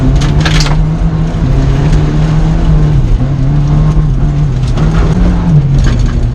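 A rallycross car's engine screams at high revs at a dirt rallycross nationals event, a loud, sustained, close engine drone with small pitch dips at shifts and gravel spatter, heard from inside the car.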